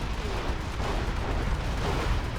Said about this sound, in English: Mammoth Tanks eats a couple of shots here, and Kay is going to be here to return fire